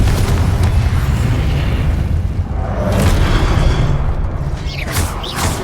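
Confringo fire spell explosion in Hogwarts Legacy, a loud booming blast with crackling fiery rumble sustained for several seconds amid whooshing combat effects.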